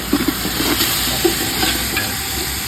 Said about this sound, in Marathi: मस्त कांदा परतून घ्या